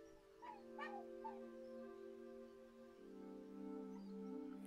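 A dog in the video game Desperate Love Feast gives a few faint, high whimpering yips early on, set against a quiet, sustained musical drone.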